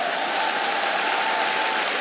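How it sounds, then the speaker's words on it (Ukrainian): Comedy-show audience applauding, a dense steady wash of clapping from a large crowd that holds evenly throughout with no voices over it. "Оплески!"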